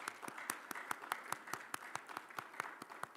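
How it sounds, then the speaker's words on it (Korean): A church congregation applauds with steady, evenly spaced claps, soft and somewhat distant, forming a gentle rhythmic patter without talk. "박수를 보내드리고 싶습니다."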